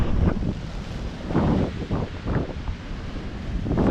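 Big storm waves surge and crash on a shore of black sand, buffeted by strong wind roaring across the microphone in loud, uneven gusts, with no voices heard.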